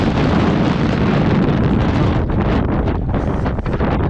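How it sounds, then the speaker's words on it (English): Wind buffeting a microphone during a hike: steady, loud broadband roaring and rumbling that never lets up, with no voices over it. "It's a little bit windy."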